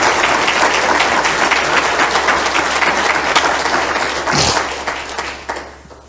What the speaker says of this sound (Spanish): Dale un aplauso a Jesús.